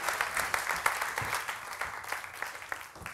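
An audience at a science communication competition semi-final applauds steadily, a dense patter of many hands clapping at moderate distance, sustained throughout without speech.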